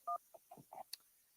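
On a radio call-in line, a short burst of telephone dial tones and line beeps sounds as a caller connects, quiet and sparse, with brief chirps spaced across a second.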